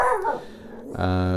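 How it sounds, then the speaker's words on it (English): A dog at home barks and yips briefly in the background while someone speaks over it, the short bursts overlapping and trailing off under his voice. "oh, excuse my dog bark in a minute,"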